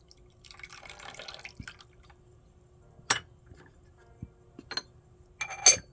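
Hand-rolled jade pillar white tea is poured into a vessel: a soft trickle of liquid early on, then a few separate drips and clinks spaced out, faint and close in a quiet room.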